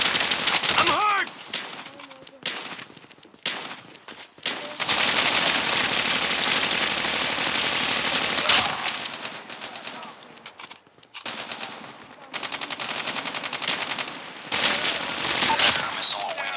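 Assault rifle gunfire in a first-person shooter video game, sustained loud automatic bursts that rattle on almost continuously, broken by a few short pauses, with brief game voice callouts in between.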